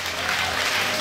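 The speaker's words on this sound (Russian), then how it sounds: "Марина Валерьевна, аплодисменты вам." Dense, steady applause from a crowd at a children's camp concert, sustained clapping throughout with no pauses.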